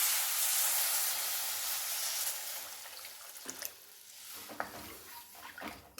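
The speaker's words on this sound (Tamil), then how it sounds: "நல்லா கொதிக்கட்டும் எண்ணெய் பிரிஞ்சு வர வரைக்கும் கொதிக்க விடுவோம்" A pot of thick green manathakkali (black nightshade) tamarind curry bubbling and sizzling steadily, a constant hissing simmer with small pops and crackles rising toward the end.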